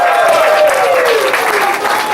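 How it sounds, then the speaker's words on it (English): A live magic show audience claps loudly for volunteer helpers, a dense wash of applause that fills the whole short stretch, with a tone sounding faintly through it. "Let's give these guys a big round of applause."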